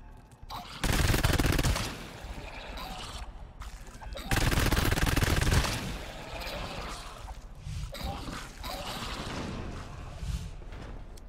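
Gunfire in the video game GTFO: two loud rapid bursts of shots about three seconds apart, with quieter game ambience between them.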